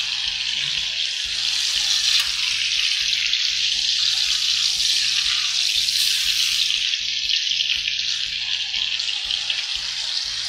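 Chicken pieces fry hard in a pan, a loud, dense sizzle running throughout while a utensil scrapes and stirs in steady, rhythmic strokes, with no talking.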